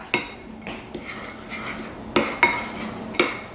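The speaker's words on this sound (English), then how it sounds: "Look, mix this up." A utensil clinks and scrapes against a bowl while homemade toothpaste ingredients are stirred, several sharp metallic taps at irregular intervals between softer scraping, close and clear with no talking.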